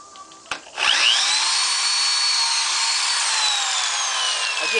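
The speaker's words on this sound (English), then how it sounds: "I drill pilot holes because these are older boards and they tend to split with the screws I'm using" A power drill whines steadily as it bores a pilot hole into an old wooden board for a gate. A brief knock comes first, then a loud, sustained high-pitched spin lasts for several seconds.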